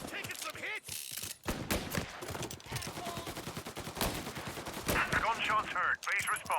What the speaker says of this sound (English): Gunshots heard